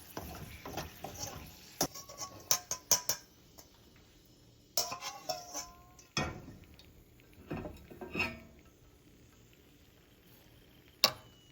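A spatula stirring chicken and cashew nuts in a hot pan with the gas turned off, giving scattered metallic scrapes and clinks in irregular bursts, fairly close and moderate in volume, with no talking.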